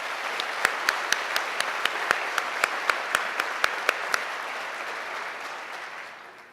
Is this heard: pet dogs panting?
no